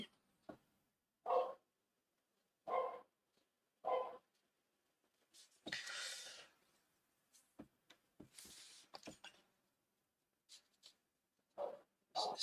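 Neighbour's dogs barking outdoors, a series of separate short barks spaced a second or so apart, with a few brief bursts of quicker yapping, moderately distant and fairly faint.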